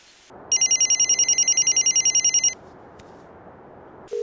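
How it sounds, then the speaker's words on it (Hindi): Telephone ringing on an outgoing call, a rapid electronic trill lasting about two seconds in a quiet room, followed by a pause. "ये लीजिए रिंग जा रही है।"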